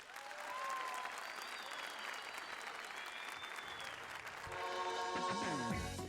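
A television singing competition audience applauds to welcome two singers onstage, a continuous wash of clapping with faint tones, and music begins to rise near the end.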